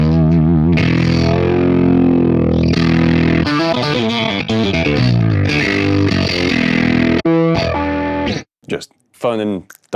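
A throaty, distorted electric guitar tone through a Neural DSP Quad Cortex Mini, loud and close, with sustained gritty chords and riffs that break into short choppy bursts near the end.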